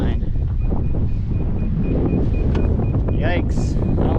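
Strong wind buffets the microphone aboard a boat run aground and turned sideways in a canal of the Intracoastal Waterway, a steady loud roar throughout with a faint tonal beep and voices underneath.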